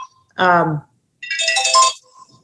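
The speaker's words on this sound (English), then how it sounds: "Somebody got a phone call?" A synthetic phone ringtone plays two short bursts of melodic tones, the first lower and the second higher and brighter, with quiet pauses around them.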